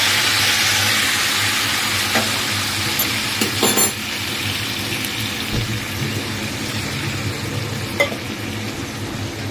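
Ridge gourd and yardlong beans tossed into a hot frying pan with already fried vegetables, a steady close sizzle and hiss with a few scraping stirs and clinks of the spatula, no talking.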